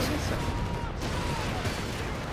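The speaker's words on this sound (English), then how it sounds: "Planes in the air, explosions everywhere." Battle sounds from the Company of Heroes 3 video game with planes overhead: dense, continuous rumbling explosions and gunfire fill the mix at a steady, loud level.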